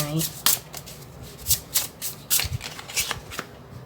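Tarot cards shuffled by hand in quick, repeated riffling bursts, close and crisp, with someone speaking briefly at the start.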